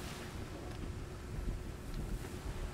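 Sailing ship in the video game Atlas moving out into open ocean, with a steady low rush of wind and water and waves washing along the hull, continuous and fairly quiet with no talk.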